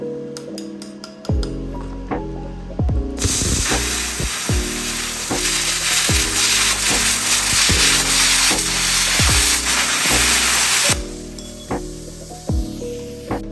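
An ANDELI CUT-65DS 65A plasma cutter slices quarter-inch steel, a loud hissing roar holding steady for several seconds, framed by rhythmic mechanical clicks and thumps before and after the cut.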